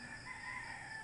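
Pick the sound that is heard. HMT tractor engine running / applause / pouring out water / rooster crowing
rooster crowing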